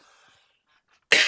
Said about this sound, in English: while I'm having a coughing fit